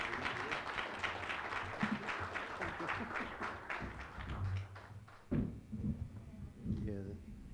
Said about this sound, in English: let's give these folks a hand. A round of applause.